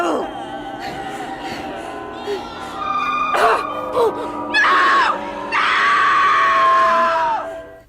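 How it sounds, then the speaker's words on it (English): A Halloween animatronic lets out several loud, close, disturbing screams and wails, rising in sharp bursts with long sustained shrieks toward the end. "They really are disturbing screams."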